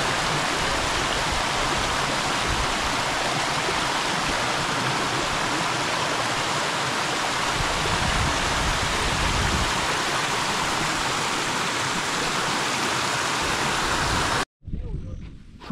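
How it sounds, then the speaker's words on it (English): Small village waterfall pouring steadily, a loud, dense broadband rush of falling water filling the whole clip, up close and continuous, cutting off abruptly near the end. "You can see this is now the waterfall here."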